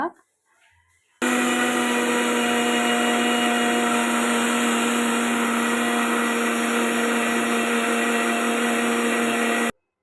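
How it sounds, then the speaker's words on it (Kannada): A kitchen mixer grinder grinding soaked dosa batter ingredients: after a brief quiet start it switches on to a loud, steady whirring drone with a constant motor hum for about eight seconds, then stops abruptly. "ಇವಾಗ ಮಿಕ್ಸಿಗೆ ಹಾಕೋಣ ನೋಡಿರಿ ಈ ಥರ ಮಿಕ್ಸಿಗೆ ಹಾಕಿ"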